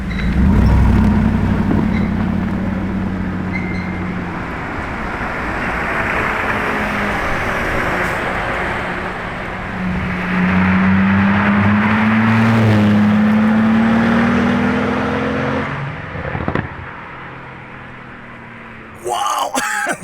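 A Mercedes SLR Roadster cruises past on the street, its engine swelling from a low rumble to a louder pass and fading, with voices and crowd chatter around it.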